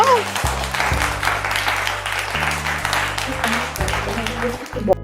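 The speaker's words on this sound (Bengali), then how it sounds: "আর হাততালি হয়ে যাক ওদের জন্য" Audience clapping at a family event at a jewelry store in Sainthia, a crowd's applause running for several seconds under loud, steady pulsing background music.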